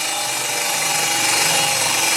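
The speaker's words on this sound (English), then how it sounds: "That's a 24 tooth Freud ripping blade on there." A steady, loud whirring rip of a table saw with a 24-tooth Freud ripping blade cutting through wood, continuous and broadband with no pauses, heard up close and alone.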